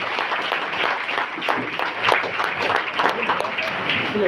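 An audience breaks into loud, continuous applause as the vice president, Mr. C. Thiyagarajan, is welcomed to the stage, a dense roar of clapping with some voices underneath.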